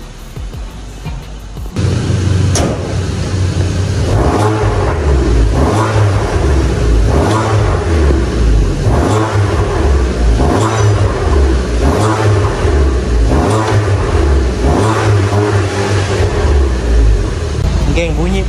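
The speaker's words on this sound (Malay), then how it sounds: "sekarang ni kereta dah siap tukar downpipe. So bunyi dia tak sebising mana yang aku buat sebelum ni." A Proton Suprima S fitted with a stainless steel downpipe exhaust revs repeatedly in loud, rising and falling surges over a steady idle, close to the microphone, with a voice talking over it.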